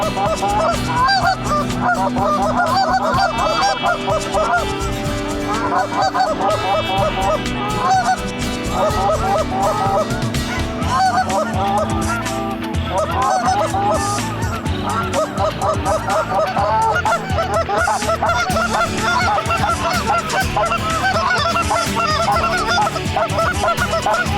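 Loud, dense honking of many geese calling at once, overlapping and continuous throughout, close and raucous, heard from inside a hunting blind in Maryland.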